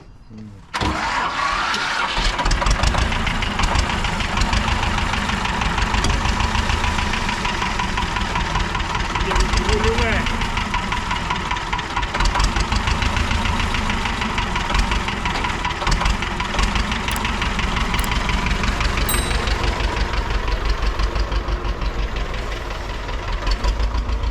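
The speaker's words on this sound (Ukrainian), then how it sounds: "Добрий трактор, правда." An old T-25 or MTZ-80 tractor engine idles with a steady low knocking throb, loud and close, running throughout while voices talk over it.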